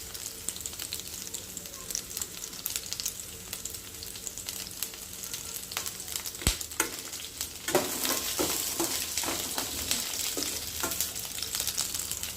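Dried red chillies fry in hot oil for mint chutney, giving a steady close sizzle and crackle with occasional stirring clinks and pops that grow a little louder toward the end.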